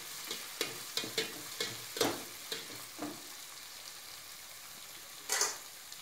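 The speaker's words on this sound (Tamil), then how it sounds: "நல்லா பச்சை வாசனை போகிற வரைக்கும் வதக்கிக்கோங்க" Masala being sautéed for mushroom (kaalaan) biryani in Chettinad village cooking, a quiet sizzle broken by a handful of sharp spoon scrapes and stirs against the pan, with a brief louder burst near the end.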